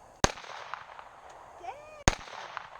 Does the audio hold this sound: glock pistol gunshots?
yes